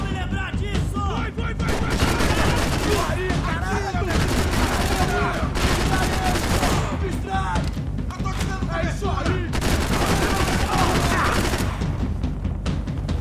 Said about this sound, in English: I just shot your man through a window